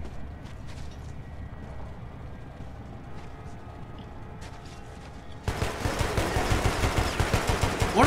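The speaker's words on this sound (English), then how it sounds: "What are they shooting at?" Enemies in the video game Metro: Last Light open fire with rapid, loud bursts of automatic gunfire that start abruptly after a stretch of quieter, muffled ambient noise and continue steadily to the end.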